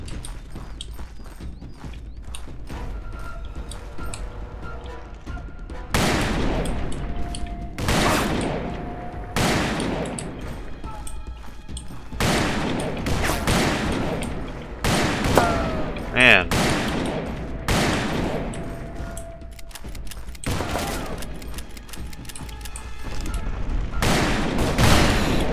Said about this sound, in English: They're shooting me from up there